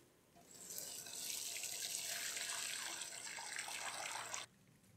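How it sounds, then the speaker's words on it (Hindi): Tap water pours steadily for about four seconds, a bright hissing splash into grains in a container, then cuts off abruptly. "और इसके ऊपर हम डालेंगे नल का पानी।"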